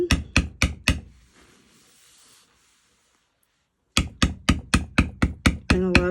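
Beveling tool tapped repeatedly on a carved leather flower, sharp knocks in quick even bursts of about five, a silent gap, then another run of crisp taps up close.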